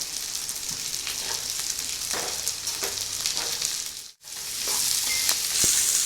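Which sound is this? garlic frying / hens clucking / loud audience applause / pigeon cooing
garlic frying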